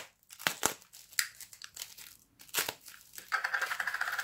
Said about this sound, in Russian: давайте последний пакетик откроем